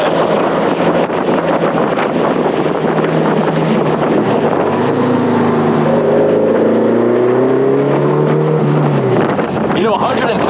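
A 1950s Porsche 550 Spyder, a light 160-horsepower roadster, drones steadily while driving, its engine note rising in pitch mid-run, heavily buffeted by loud wind rush, with faint talk.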